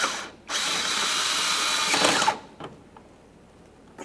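Power tool tightening a mounting bolt under a plastic bracket during radiator replacement on a 2017-2024 GMC Acadia: a close, loud whirring drive of nearly two seconds that winds up and cuts off, followed by a short second burst.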